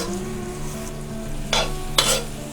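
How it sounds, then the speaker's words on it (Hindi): Onions frying in oil with whole spices such as cardamom, cloves, cinnamon, bay leaves and cumin for chana pulao, a steady sizzle broken by two sharp bursts as they are stirred, close and moderately loud. "प्याज फ्राई हो रही है।"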